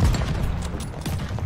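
Sniper rifle in Call of Duty Vanguard firing two loud, sharp shots about a second apart, with ringing reverb in between.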